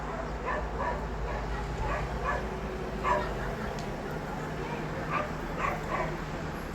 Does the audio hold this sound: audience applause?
no